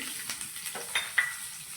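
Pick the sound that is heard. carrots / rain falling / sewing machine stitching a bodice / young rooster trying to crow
carrots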